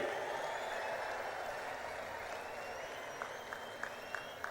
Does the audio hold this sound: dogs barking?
no